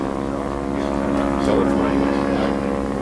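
Propeller airplanes coming in, heard in 1940s Barrie footage as a continuous droning engine roar that swells slightly midway, with a voice talking over it.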